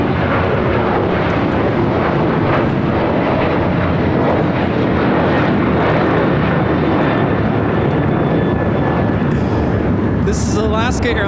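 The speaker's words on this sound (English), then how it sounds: "This is Alaska Airlines Flight 6 taking off to Washington Reagan National on a 737-800." An Alaska Airlines Boeing 737-800 jet takes off from a major airport with a loud, steady, broadband engine roar held throughout, near and overwhelming, while people talk faintly beneath it.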